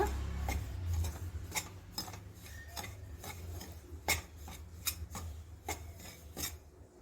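Rava and ragi flour being dry-roasted in a pan on low flame, with repeated scraping and rasping strokes of a spatula against the pan at an irregular rhythm, close and fairly quiet, no talk.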